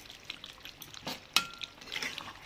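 Chicken curry with pointed gourd and potato, finished with garam masala, is stirred and fried in a pan: soft sizzling with a few light scrapes and one sharp utensil clack, close and fairly quiet.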